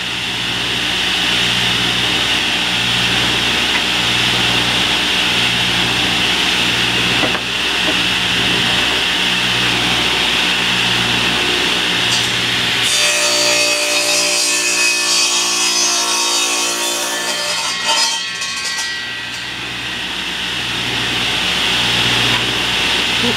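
Wood is hand-sawn to cut tapers for bench pins, heard as rhythmic back-and-forth rasping strokes up close, with a brighter, grittier burst of cutting partway through.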